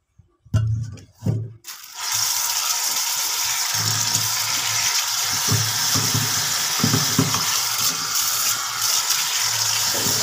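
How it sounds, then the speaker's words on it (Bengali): Eggs washed with Vim dishwashing soap under a steadily running kitchen tap, a continuous loud gush of water after a few brief handling knocks at the start. "তো এখন এই যে ডিমগুলা ধুয়ে সুন্দর করে রেখে দিব, একটু ভিম দিয়ে ধুয়ে নেব ডিমগুলা।"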